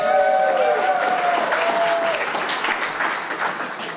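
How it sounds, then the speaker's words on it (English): Loud applause from a crowd, steady clapping that slowly fades, with a few voices underneath. "maybe a louder brand of like applause"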